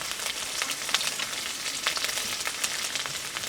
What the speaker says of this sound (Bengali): এখন আমি একটা শুকনো মশলার উপকরণগুলো দিয়ে দিই দুই চামচ মরিচ গুঁড়া